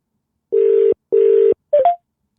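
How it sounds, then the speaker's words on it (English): An outgoing telephone call rings back with two steady, evenly spaced buzzing tones, then a brief higher blip follows as the line connects. "It's ringing now."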